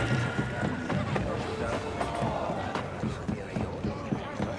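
Spaceship engines in Star Wars Outlaws run with a steady, loud, broadband roar that stays continuous throughout, with other game sounds layered over the rumble.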